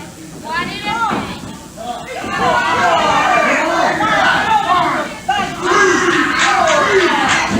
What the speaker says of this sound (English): The crowd becoming quite upset with the tactics of Vivian St. John